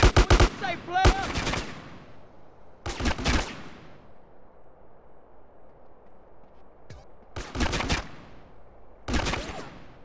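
Bursts of rapid gunfire in GTA San Andreas, several loud clusters of shots separated by quiet gaps, with a brief voice early on.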